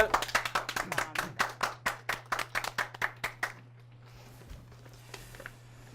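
An audience at a business talk-show taping claps in a brisk, rhythmic burst for about three seconds. The clapping then stops abruptly, leaving quiet room hum.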